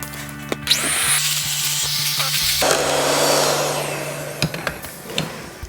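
Electric mixer beaters whir steadily through keto cheesecake filling, a continuous motor hum with grinding, scraping texture and a few sharp knocks of the beaters against the bowl near the end.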